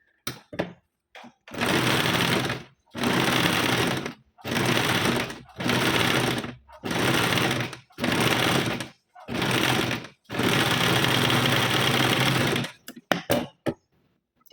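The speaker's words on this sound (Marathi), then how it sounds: "ती खालून अशी सरळ शिवून घ्यायची" Sewing machine stitching a straight seam along a lining cross strip for a size 38 four-tuck blouse, running in six or seven loud bursts of steady motor whir separated by short pauses, with no talking.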